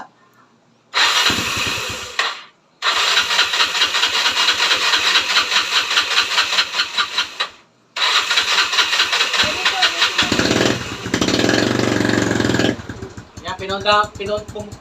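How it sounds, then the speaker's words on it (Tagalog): A Yamaha Mio Sporty scooter engine, 13 years old and freshly tuned up with new magneto parts, o-rings and oil seals, cranks and catches several times, revving loudly in bursts with brief pauses between starts, close by. "Testing na natin kung aandar pa ba."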